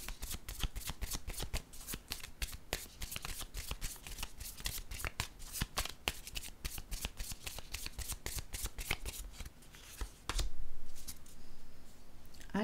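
Tarot cards being shuffled close up in quick, dense riffling bursts that run continuously, then a brief pause and a softer final stretch of shuffling.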